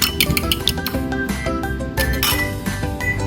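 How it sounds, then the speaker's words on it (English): Egg being beaten in a bowl for a baked beans and hash brown dish, with quick rhythmic clinks of utensil against the bowl and light clattering, close and fairly loud. "Beat an egg for later use."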